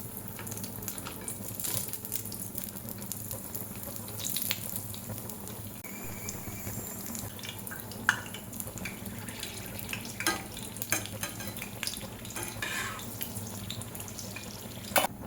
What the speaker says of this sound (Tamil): ஆயில் வச்சு ஃப்ரை பண்ணிடலாம் வாங்க.